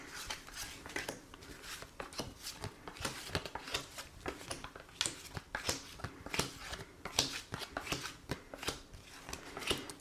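Tarot cards are shuffled and drawn by hand, a quick, close run of crisp riffling flicks and soft slaps repeating rhythmically at low volume with no talking.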